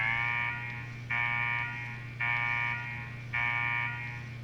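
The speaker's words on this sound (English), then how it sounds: "What the hell is that alarm?" An alarm blares inside the Fallout 4 game world, a steady buzzing tone repeating in four long pulses with short gaps, over a constant low hum.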